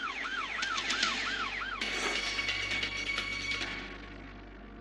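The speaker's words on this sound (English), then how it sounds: "The officer hits a siren." A wailing police siren sweeps up and down quickly, then shifts to a harsher steady tone over a low engine rumble, gradually fading.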